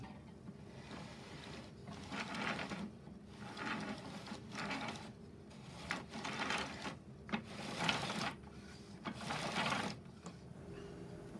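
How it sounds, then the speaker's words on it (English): Gears of a mechanical wooden model tower crane turn a wooden chain, giving close, moderately quiet clicking and whirring in repeated short bursts, with no talk. "But this sprocket is connected to the bottom control ring through a series of gears, which then turn this chain."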